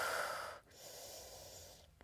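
Heavy breathing during a glute activation exercise, with two long, close exhalations, each ending in a short pause before the next breath, heard alone and fairly quiet.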